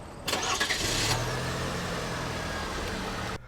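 A 2026 Chevrolet Colorado pickup engine remote-starts with a sharp crank and catch, then settles into a steady, smooth idle heard close and alone before it abruptly cuts off.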